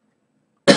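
A single sharp cough bursts out near the end after a long silence, close and fairly loud.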